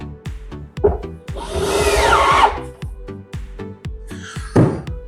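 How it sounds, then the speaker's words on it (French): A power screwdriver drives screws through a drawer front to fix it in place, giving a couple of loud whirring bursts with short pauses between, close and clear. "Je visse."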